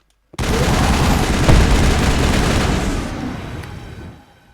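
Heavy high-explosive gunfire in the video game Mass Effect, a loud, sustained barrage of blasts and booms that swells with one sharp peak, then fades out near the end.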